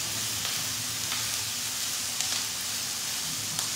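Chopped onion frying in a pan for tacos, a steady close sizzle with soft crackles and a few stirring scrapes, no voices over it.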